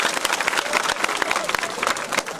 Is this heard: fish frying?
no